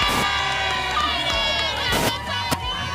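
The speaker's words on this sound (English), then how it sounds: "Hey, can I get a cheer from the minions?" Children cheer at a state sports championship in Western Australia, a dense mix of high shouting voices that stays loud throughout, with a couple of sharper bursts near the end.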